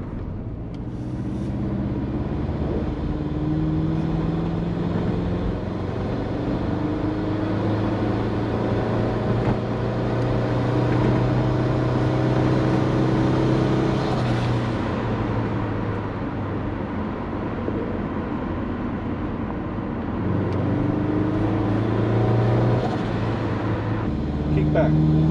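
A turbocharged Subaru Forester with an automatic gearbox and a large GT35 turbo accelerates hard in second gear, its engine droning loudly and steadily with the pitch climbing throughout.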